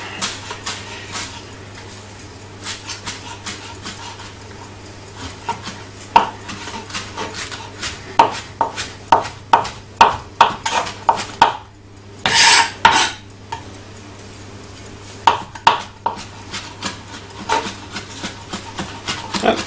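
Knife chopping fresh parsley on a cutting board for herb butter and potatoes, steady close taps in irregular bursts, with a brief scraping sweep midway.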